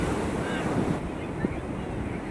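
Sea waves wash onto a beach in a continuous surf hiss with gusty wind buffeting the microphone, the wash swelling and easing slightly throughout with no clear voices.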